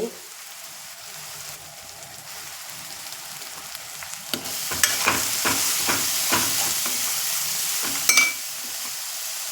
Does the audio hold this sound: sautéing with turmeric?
yes